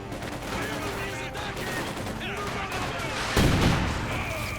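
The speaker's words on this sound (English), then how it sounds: "a nice grenade in the middle of everything" A grenade explosion and scattered gunfire in the World War II strategy game Company of Heroes 2, a booming blast near the end amid ongoing battle noise, under a commentator's voice.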